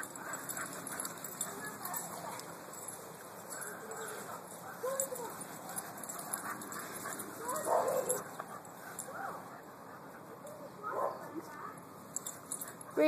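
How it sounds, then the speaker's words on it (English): Dogs mingle at a doggie daycare, with faint paw clicks, shuffling and occasional soft whimpers spread through a busy indoor room, all at a low, distant level. "Making friends with the other doggies."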